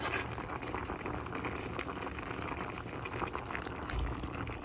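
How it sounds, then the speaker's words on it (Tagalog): A pot of paksiw, a galunggong fish stew with bok choy and chili, boils at a steady rolling bubble, close and continuous with no talking. "Kumukulo na."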